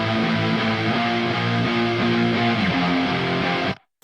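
A Jupiter Shreddage virtual guitar, pitched up seven semitones as a layering part, plays a loud, sustained run of bright, distorted chugging notes with a steady rhythm, ending in an abrupt cut to silence.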